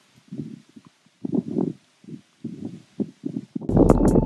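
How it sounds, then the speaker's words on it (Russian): Wind gusts outdoors by a river during feeder fishing, buffeting in low, rumbling bursts that come and go in an uneven rhythm, ending in a louder, rougher rush of noise. "Ветер, конечно, мешает."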